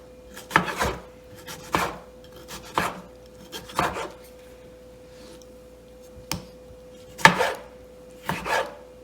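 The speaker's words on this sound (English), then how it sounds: "All right, just do this a quick little chop." A knife chops tomatoes on a cutting board for guacamole, giving about eight sharp, separate thuds at an uneven pace, close and fairly quiet with no talking.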